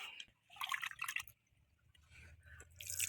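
Red sorghum grains are swished and rinsed in water, giving bursts of splashing and dripping separated by short quiet gaps, close and fairly soft.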